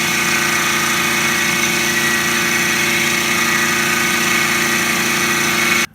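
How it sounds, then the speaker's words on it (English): A Model 6450 mini mill cuts along a long workpiece with a steady, loud mechanical whine and hum that stays constant for about six seconds, then cuts off abruptly at the end. "that's just to give you a sample of some of the types of milling that you can do on a long workpiece"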